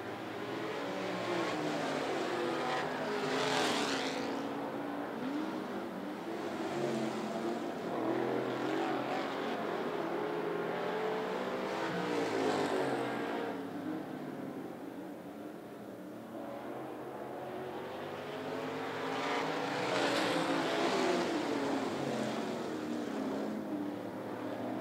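Race cars lap a short speedway at 411 Motor Speedway, engines swelling and fading as they pass at a distance, the rising and falling drone repeating a few times with no talk.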